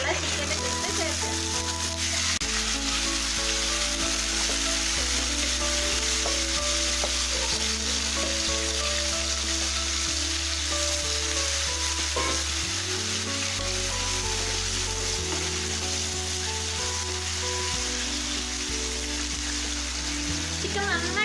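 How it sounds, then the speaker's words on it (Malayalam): Marinated chicken pieces fry in hot oil, giving a loud, continuous sizzle and crackle throughout, while background music with a steady bass pattern plays underneath. "ഞാൻ ഇതിലേക്ക് മാരിനേറ്റ് ചെയ്ത് വെച്ചിട്ടുള്ള ചിക്കൻ്റെ പീസ് ചേർക്കാം."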